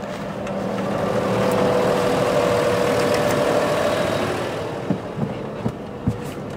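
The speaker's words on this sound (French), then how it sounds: "Et ça consomme pas beaucoup de gasoil parce que le tracteur est à 1200 tours en 1000 tours éco." A Fendt tractor engine runs at low revs, around 1200 rpm in eco mode, on a farm in winter, giving a steady, close diesel drone with a few sharp knocks toward the end.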